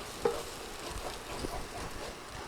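Egg frying in a pan while cooking chicken fried rice, a steady soft sizzle with faint crackles throughout, fairly quiet and close.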